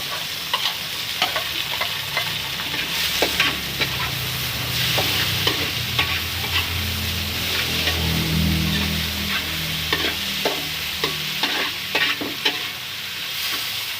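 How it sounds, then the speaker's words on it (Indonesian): Salted mustard greens sizzle and crackle in a hot wok with a spatula scraping and tossing them in irregular strokes, close and continuous. "Sekarang aku mau tumis sawi asin dengan tahu."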